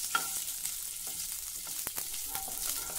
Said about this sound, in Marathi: आता अगदी मंद गॅसवर आपल्याला हे भाजायचं आहे।